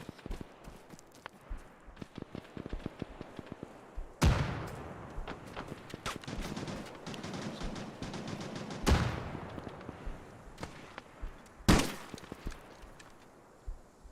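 Gunfire in Arma during a large team-versus-team battle, with scattered single shots and short bursts through the clip, punctuated by three loud, sharp cracks or blasts nearby against a steady background of distant firing.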